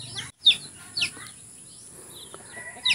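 Chickens cluck near a farm hut, with a few sharp calls spaced out over a steady hum, close and moderately loud, and no talking.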